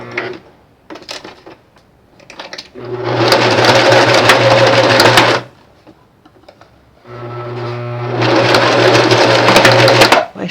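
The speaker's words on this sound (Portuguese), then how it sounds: "Dou um retrocesso no comecinho e venho de um lado a outro, costurando por cima da língua" A sewing machine stitches back and forth over the fabric of a personalized child's protective face mask, running in two sustained, loud bursts separated by a brief pause with faint handling sounds.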